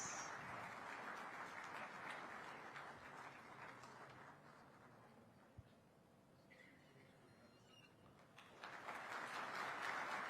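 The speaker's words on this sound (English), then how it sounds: "Let's welcome this initiative by a big round of applause." A crowd claps in a steady, dense wash of applause at a Vibrant Gujarat Global Summit seminar launch, fading slightly midway before swelling louder again at the end.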